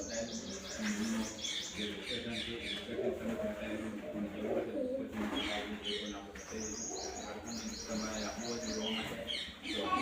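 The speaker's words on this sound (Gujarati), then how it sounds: "કુંડની અંદર કબૂતર બધા બહુ જ બેઠા છે" Pigeons coo and flutter inside a stepped temple water tank at Hari Har Mahadev in Patan, soft repeated coos and chirps echoing off stone with faint voices in the background.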